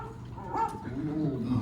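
A show dog named Rover barks in a short, close bark with a whimpering edge, standing alone with no talk, as part of a staged theater attraction's sound effects.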